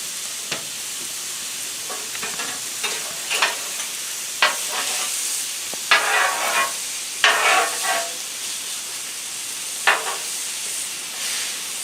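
N.Y. strip steaks sizzle on a Blackstone griddle with oil, a constant close hiss broken by several sharp crackling bursts and scraping spatula movements, with no one speaking.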